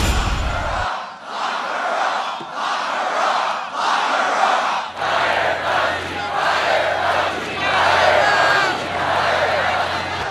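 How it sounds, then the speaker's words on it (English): A political rally crowd in Tampa, Florida, booing and chanting, a loud dense roar of many voices rising and falling in waves and building in force partway through. "You can hear there is a chorus of boos and other chants from this Trump crowd here in Tampa, Florida."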